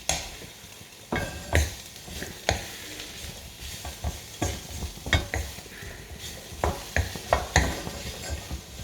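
Salt and chilli pepper chips sizzle and hiss while being stir-fried in a small wok, with repeated scraping and clanking of a utensil against the metal in an uneven rhythm.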